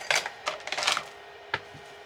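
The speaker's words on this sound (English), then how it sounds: "I'm trying to get the plastic off of them" Crinkly plastic crackles and a few sharp clicks in short bursts, close by and fairly quiet, as plastic wrapping is picked and pulled off soup freezer containers.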